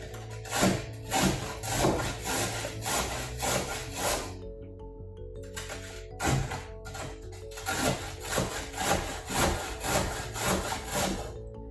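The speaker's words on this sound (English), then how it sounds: "let's grate it here on this cutting board." Cabbage for sauerkraut is grated by hand on a cutting board in a series of rhythmic, rasping strokes, close and clear, with a short pause partway through before the strokes resume.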